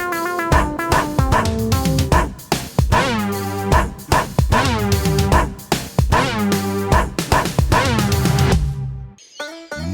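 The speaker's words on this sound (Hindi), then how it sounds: "कुत्ता" A cartoon dog in a Hindi animated children's show yips and barks in a loud, rapid series over a busy musical backing that cuts out near the end.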